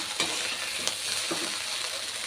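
Mint leaves being stirred into chicken fried rice frying in a pan, a steady close sizzle broken by a few scraping stirs.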